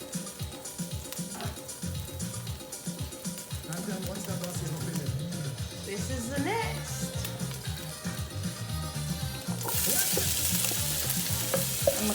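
Chicken andouille sausage sautéing in oil on a stovetop, a steady close sizzle under repeated stirring and scraping, growing brighter and louder near the end; no talking.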